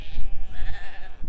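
Sheep bleat at a gate on Exmoor, giving a couple of close, wavering calls over a short stretch with some low outdoor rumble beneath.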